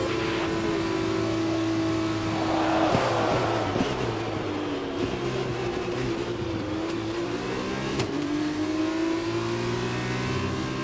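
An F2 race car engine in the F1 2021 video game, loud and sustained as it accelerates, its whining pitch climbing through gear changes and easing back, with no talk.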